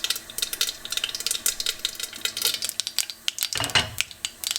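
Mustard and cumin seeds pop and crackle in hot oil in a pan, a dense run of sharp, rapid ticks close up, with a louder metallic clatter like a lid being handled partway through.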